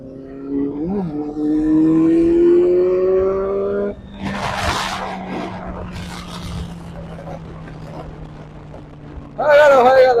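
Benelli 390 motorcycles racing: engines rev with rising whines that climb and then drop away, followed by quieter rumbling and a fresh burst of revving at the end, while people talk in the background.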